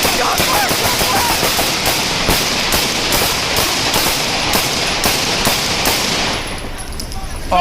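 Rapid bursts of gunfire crack out during a police chase and gunfight, loud and dense with repeated sharp shots over road and engine noise, easing off near the end.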